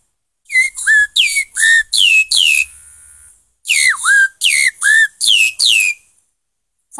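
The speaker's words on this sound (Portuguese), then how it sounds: "Sabiá laranjeira." Call of the sabiá laranjeira, the rufous-bellied thrush, rendered as loud, close whistled phrases: five quick swooping notes, a short hold and pause, then five more, clean and isolated.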